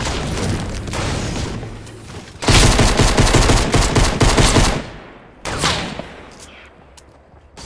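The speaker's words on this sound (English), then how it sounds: "He's shooting at me!" Heavy gunfire in Fortnite Battle Royale: loud overlapping bursts and booming shots, a dense volley in the middle, then a fading tail and a final sharp shot, close and intense.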